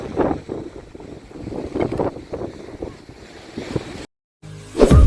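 High-tide waves crashing and splashing onto a coastal road in uneven surges under gusting wind noise, with a brief dropout before one last loud splash.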